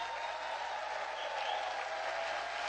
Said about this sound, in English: let's give it up for Alex and his leadership team